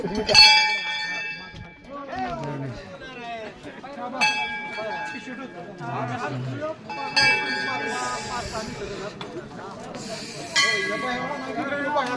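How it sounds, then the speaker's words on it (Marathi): A temple bell with a hill valley beside it, rung in four bright metallic strikes spaced a few seconds apart, each ringing out over continuous nearby talk. "घंटी वाजली."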